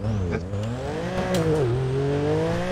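Virtual car drifting in GTA, played on a steering wheel: a steady, loud engine drone with wavering pitch that rises and dips through the slide, carrying continuously from start to finish with no talk.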